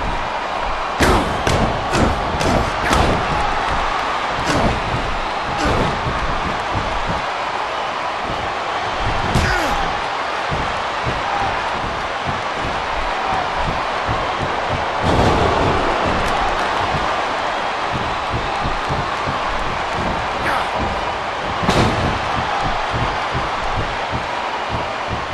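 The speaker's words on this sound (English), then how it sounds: "There's that slam." A body slam in the wrestling video game Smackdown vs RAW 2010: heavy thuds and slams land repeatedly over a constant noisy arena bed, with several sharp impacts standing out and a voice talking throughout.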